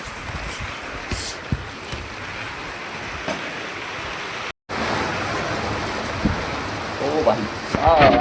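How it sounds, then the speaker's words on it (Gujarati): Heavy rain pours steadily in a broadband wash, loud and close, with a brief cut partway through and some faint voices near the end. "શું વરસાદ છે, વાહ ભાઈ વાહ"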